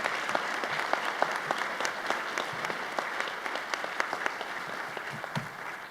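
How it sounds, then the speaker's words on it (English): A high school honors night audience applauds National Honor Society students, a steady wash of many hands clapping at moderate distance that holds evenly throughout. "Once again, one more round of applause for our NHS students."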